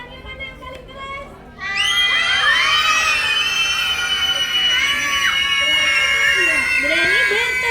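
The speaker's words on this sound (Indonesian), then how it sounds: "Coba adik-adik teriakannya mana yang paling keras?" A crowd of young children at an indoor puppet storytelling show shouts loudly together, a sustained, dense burst of high voices that erupts after a few quieter seconds and stays at full volume to the end.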